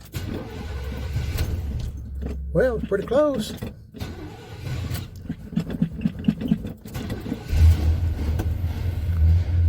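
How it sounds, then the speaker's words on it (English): A 1985 Chevy C10 truck's engine cranks through a cold start, catches, and rumbles low with a few revs, close by, while someone talks over the idle. "This is the first time I've ever given it a cold start in my possession."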